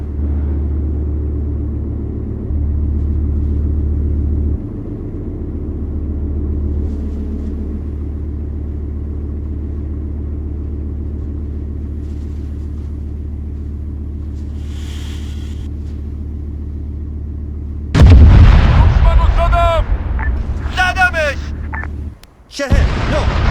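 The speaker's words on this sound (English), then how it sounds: "So that's why I bombed 2 different positions." Bombing of two positions in the military game Arma 3: a steady low rumble runs for a long stretch before a sudden loud, broad blast near the end, with voices heard around it.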